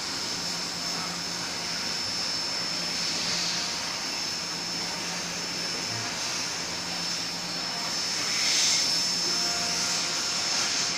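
The spindle of a 1996 Haas VF-0E CNC vertical machining center runs at about 3000 RPM, producing a steady high-pitched whine over a broad mechanical hum that swells slightly near the end, with no talking.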